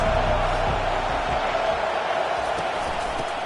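A stadium crowd roars and cheers in a Madden football video game, a dense, steady wall of noise that stays loud for the whole stretch without a break.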